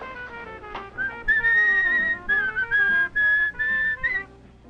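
A person whistles a short tune in a run of sustained notes with brief gaps, heard clearly over low background music.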